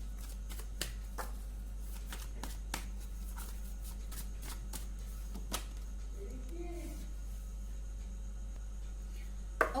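Tarot cards shuffled by hand in a quiet room, with soft repeated riffling and slapping bursts spread irregularly over a low steady hum, close but faint.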